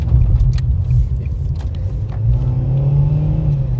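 A Mercedes car engine steadily revving and picking up speed, a loud continuous low rumble with rising whine throughout, with inconsistent acceleration linked to transmission fluid.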